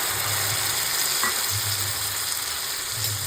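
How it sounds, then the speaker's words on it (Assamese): Masala paste sizzling and frying in a pan for an Assamese jackfruit curry, a steady close hiss with faint low stirring bumps running throughout. "আৰু এইখিনি অকণ ভালদৰে মছলাটো একেবাৰে গলি যোৱালৈকে অকণমান সময় ভাজি থাকিম।"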